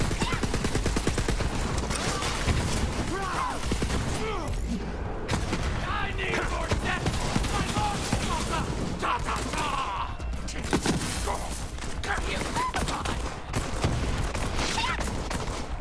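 Dense, sustained gunfire from shooting minions in Borderlands 3, with loud rapid bursts and booms running throughout alongside game effects and a voice.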